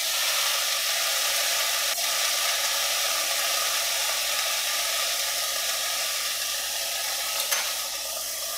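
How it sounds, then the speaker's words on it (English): Onions, previously frozen and pre-cut, and fresh garden peppers sauté in a pan with a steady, even sizzle close by and no talking. "I've got onions and peppers. The peppers are fresh from the garden. The onions are some I had in the freezer that I'd already cut up. And I'm just letting them saute down"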